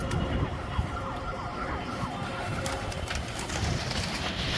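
Pigeons in a large hobby flock of about 150 birds, soft cooing and fluttering spread through a continuous busy background, with a distant siren-like wail faintly present.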